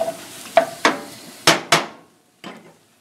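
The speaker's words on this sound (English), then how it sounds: "I think we just stir this around. You should let this flour cook out of this for a little bit." A utensil scrapes and knocks against a frying pan as flour is stirred for gravy, several sharp clanks and scrapes in uneven rhythm, close and fairly loud with brief pauses.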